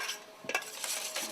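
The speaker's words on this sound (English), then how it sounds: "give it a good whisk." Whisk stirring a garlic marinade in a bowl, soft scraping and light clinks close by, quiet and brief.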